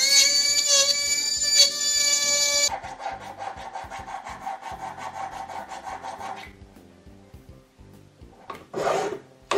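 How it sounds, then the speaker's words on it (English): Needle files rasp along the edges of a metal tube for a sister hook catch, a dense run of rapid strokes up close and loud, fading to lighter scraping with a brief harsher burst near the end. "Or just get in there with your needle files to tidy it up."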